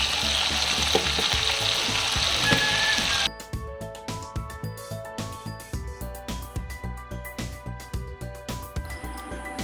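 Pasla fish head frying in a pan with salt and turmeric, a loud steady sizzle at first, then a quieter crackle with rhythmic stirring scrapes and taps.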